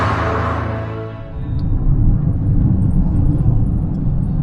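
A Fiat Panda car engine thrumming, a loud low rumble that swells after a brief dip in pitch and then holds steady and close.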